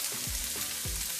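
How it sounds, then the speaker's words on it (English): Onions frying in about three spoons of oil for a murgh musallam, a steady sizzle with a couple of soft stirring scrapes, close and moderately loud with no talk. "Put this onions in there and we'll fry onions."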